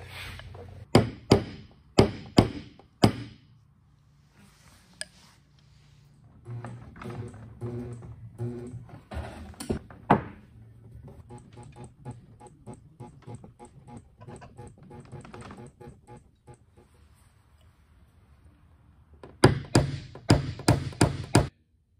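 PDR tools tapping down a deep stretched dent on a Subaru body panel: sharp metallic knocks in quick bursts, then a long run of softer, rapid taps, then another cluster of hard strikes, close up.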